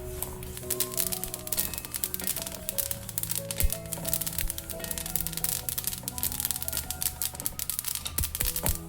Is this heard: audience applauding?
no